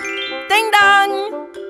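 A bright ding-dong chime marks a correct quiz answer in a German children's cartoon about little buses and construction vehicles, ringing as a short two-part tone with a tinkling tail, loud and alone.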